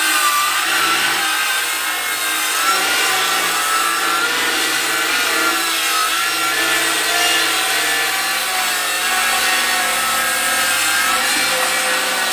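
A saw cuts steadily through reclaimed wood for a feeder trough, giving a loud, continuous rasping close by with no breaks.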